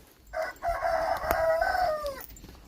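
A rooster crows loudly and close by in one long drawn-out call, with faint hen clucks around it, at a village henhouse in winter.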